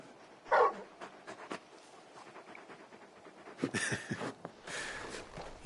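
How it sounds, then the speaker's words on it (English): Torgal, the large wolf-dog companion in Final Fantasy XVI, gives soft whimpers and panting huffs in brief bursts, close by, with a few louder yelps near the start and quiet ambient game sound between. "You're just a big puppy, aren't you? A very big puppy."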